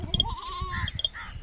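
A goat bleats while a thermometer is taken out after a rectal temperature check, giving a couple of wavering, nasal calls up close, with rustling and handling noise underneath.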